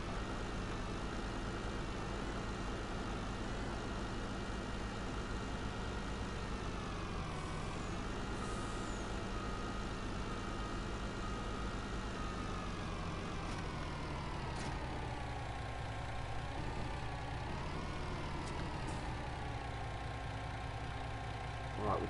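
A heavy truck in Farming Simulator 19 rumbles steadily throughout, its engine drone shifting in pitch as it revs, with faint high beeps and hiss scattered over the continuous low hum.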